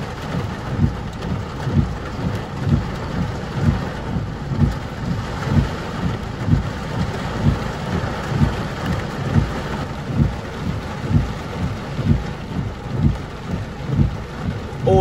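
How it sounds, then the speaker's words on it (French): Rain falling during a thunderstorm, a steady hiss of drops on surfaces under a low, pulsing rumble of wind or distant thunder, continuous and fairly loud with no talking. "La pluie se renforce."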